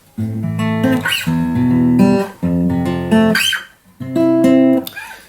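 Fingerpicked acoustic guitar playing a repeating arpeggio pattern over a few chords, clear and close, with no voices.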